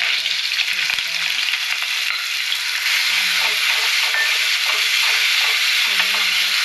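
Fish curry masala frying in hot oil in a pot, a loud, steady, dense sizzle throughout with occasional stirring scrapes and faint background voices beneath.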